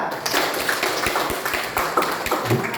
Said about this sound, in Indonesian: tepuk tangan buat Ananda Arisa